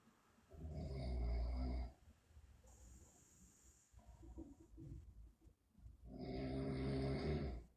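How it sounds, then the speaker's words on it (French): A person snoring nearby, two long, loud rasping snores separated by a quieter stretch of breathing and faint background noise. "Qui ronfle?"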